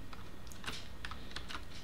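Computer keyboard keys pressed repeatedly for a Shift plus F3 shortcut, a quick series of light, close clicks and taps over a faint steady room hum, with no voices.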